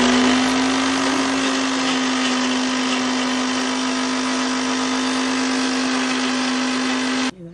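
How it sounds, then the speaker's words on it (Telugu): A mixer grinder whirs loudly and steadily as it grinds green chillies, chilli powder and salt into a paste, then stops abruptly near the end. "ఇది మెత్తగా మిక్సీ పట్టుకోవాలి."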